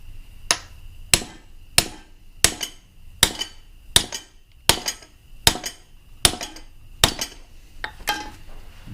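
Metal tool tapping on a socket fitted to a Ditch Witch, a dozen sharp evenly spaced clinks about every three-quarters of a second, close and clear with no talking.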